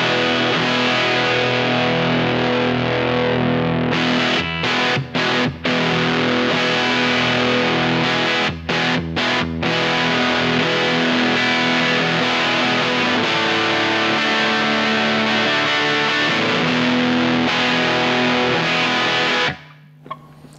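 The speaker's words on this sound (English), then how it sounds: "So let's crank the gain and maybe you'll get an idea of the harshness" Loud, heavily distorted electric guitar chords ringing through an EL84 Class A amp with gain cranked, harsh, saturated tone, a few short breaks, then stopping abruptly near the end.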